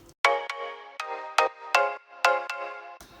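A bright marimba preset from the reFX Nexus synth plays a short melodic pattern of plucked, quickly decaying notes in a bouncy rhythm, heard alone.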